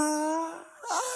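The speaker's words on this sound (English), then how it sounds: "caught a yawn" A person yawns close by, a drawn-out, descending vocal sound that dips quietly in the middle before rising into a brief breathy finish.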